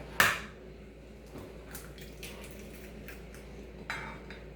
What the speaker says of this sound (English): next we're gonna grab a separate bowl. I'm gonna crack 1 egg